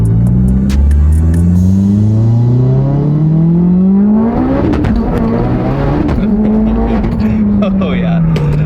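A Mitsubishi Evo accelerates hard along a busy road, its engine note climbing steadily through the gears in a loud, close run with a brief shift dip midway, while people talk over it.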